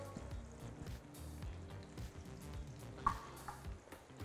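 Onion and leek sizzle in oil in an electric pot, a steady crackling fry with stirring scrapes and a sharp clatter near the middle.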